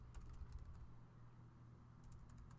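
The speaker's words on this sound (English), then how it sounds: "Start off by typing in yoga and meditation." Faint, quick keystrokes on a computer keyboard while text is entered into a PowerPoint slideshow title, short clusters of clicks at the start and near the end, no voices.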